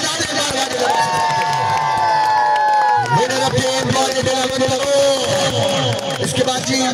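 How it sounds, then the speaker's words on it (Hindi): An audience at an outdoor cricket tournament prize ceremony cheers and claps in a loud, sustained crowd roar, with shouted calls and someone talking over the noise. "फादर अब्बासी साहब के लिए तालियां बजा दें।"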